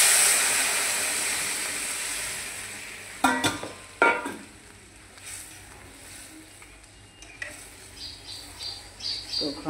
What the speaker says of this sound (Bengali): এখন ডালটাকে সম্বাস দিয়ে দেব